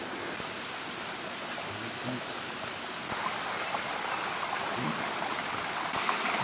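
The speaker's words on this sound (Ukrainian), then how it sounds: "Такий струмок тече" A small stream trickles and gurgles steadily at close range, a soft continuous rush with faint bird chirps drifting in the background.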